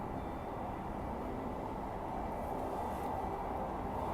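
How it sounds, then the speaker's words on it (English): Steady, low rumbling of a train rolling across the Forth rail bridge in Scotland, heard from a distance and continuing without a break. "Can you hear the trains going over?"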